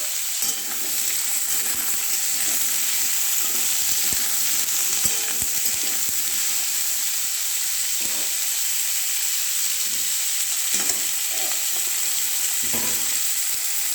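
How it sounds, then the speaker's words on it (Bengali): Radishes frying in a pan with panch phoron spices, giving a steady loud sizzle and hiss throughout, broken by occasional stirring scrapes and soft clinks. "মূলোগুলো ফ্রাই করছি।"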